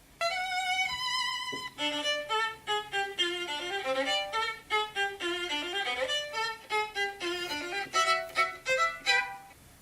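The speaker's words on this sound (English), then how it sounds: "That is the sound of an expensive violin in the hand of those who value it" A solo violin plays a flowing melody of quick, singing notes, clear and close, with phrases rising and falling and no talking.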